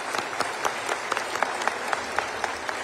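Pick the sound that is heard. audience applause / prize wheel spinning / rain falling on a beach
audience applause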